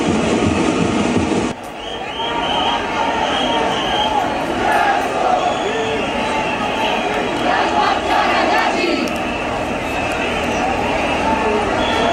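A huge crowd at a Ganpati immersion in Mumbai makes a dense, continuous roar of chanting and shouting in heavy rain. Someone talks close over it the whole time, and the crowd noise briefly dips near the start.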